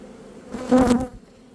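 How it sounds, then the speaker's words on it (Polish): A close, brief burst of buzzing bees from an agitated hive during an inspection swells and fades within about a second. "tu są nerwowe te pszczoły trochę"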